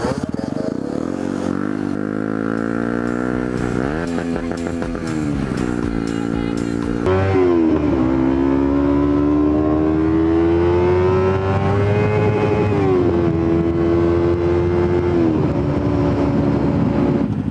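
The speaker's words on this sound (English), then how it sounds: "Therefore, it's got a racy sounding exhaust." A dirt bike with a racy-sounding exhaust accelerates hard, its engine note climbing through several revving surges and gear changes, loud and close, with wind rush and rattling in the background.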